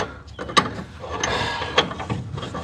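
A wrench turns a front shock absorber nut on a 1961 Corvair Rampside pickup with short ratcheting and scraping metal strokes, close and uneven, plus a couple of sharper clanks.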